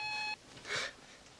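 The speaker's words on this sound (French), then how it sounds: "vous pouvez me laisser un message après le bip sonore." An answering machine gives a single steady electronic beep lasting about a third of a second, then cuts off, leaving a quiet room with a faint soft rustle.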